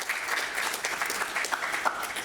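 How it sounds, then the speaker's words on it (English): A conference audience at a cybersecurity summit pitch competition applauds steadily, a dense wash of clapping that holds for a couple of seconds without pause. "Let's give Molly a round of applause."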